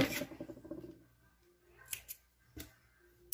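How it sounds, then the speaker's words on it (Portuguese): Scissors snip through crochet yarn in a few sharp, close clicks spaced about half a second apart, after some soft handling noise in a quiet room. "Deixa eu já cortar esse fio, pra não atrapalhar."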